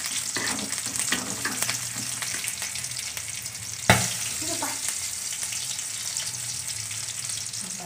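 Onions sautéing in a pan for a spicy Tamil-style chicken gravy give a steady close sizzle and frying crackle, with a brief louder clatter near the middle as the pan is stirred.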